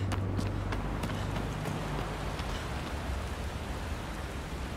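Steady rain pouring in the video game Shadow of the Colossus, a dense, even hiss throughout with a few faint, sharp ticks of drops near the start.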